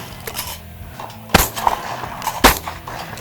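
Two sharp outdoor shotgun blasts go off about a second apart over low background noise on a Texas ranch.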